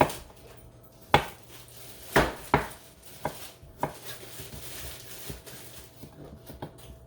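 A knife chops through turnip wedges on a cutting board, several sharp separate knocks spaced irregularly, close and clear with a soft hiss between cuts.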